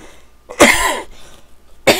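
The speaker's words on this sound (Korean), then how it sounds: "그 기침을 해서 죄송한데" Two sharp, harsh coughs, close and loud, separated by a brief pause.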